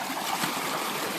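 A rainwater stream flows over farm fields after heavy rain, a close, continuous rushing and gurgling of water with no voices.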